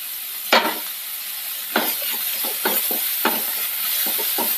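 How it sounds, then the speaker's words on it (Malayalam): Ginger, green chili and onion sauté in a pan with a steady close sizzle, broken by repeated scraping strokes of a spatula stirring at an uneven rhythm. "ഇഞ്ചിയുടെയും പച്ചമുളകിൻ്റെ ഒക്കെ ഒന്ന് പച്ചമണം മാറുന്നത് വരെ ഒന്ന് വഴറ്റിയെടുക്കാം"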